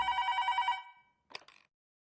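A telephone bell rings in a police station, a short burst of rapid ringing that cuts off, followed by a brief clatter as the receiver is picked up.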